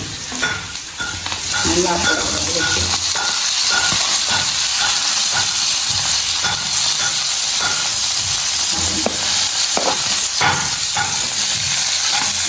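Tomatoes go into a frying pan during vegetarian fasting-day cooking, raising a loud, continuous sizzle with steady stirring and scraping close by, alone without talk.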